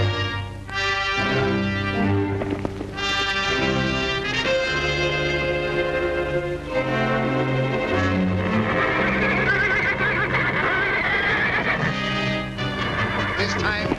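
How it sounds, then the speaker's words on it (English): A horse whinnies loudly and repeatedly over a busy backdrop of music and hoofbeats in a 1939 western film, with a few nickering calls near the end. "This time, Whitey decided to have it out with the black horse, once and for all"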